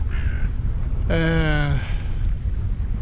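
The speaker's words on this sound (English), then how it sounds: "on top of the mast a crow just landed" A crow perched atop a sailboat mast gives a short call, then one long, harsh, drawn-out caw, close by over steady wind noise and boat rumble.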